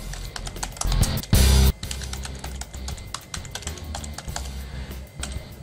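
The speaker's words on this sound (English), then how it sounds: "I'm using this keyboard right here to type and work on this." Rapid keystrokes on a keyboard attached to a Lenovo IdeaTab A1000 tablet, close and steady, with a louder clatter of heavier presses early on.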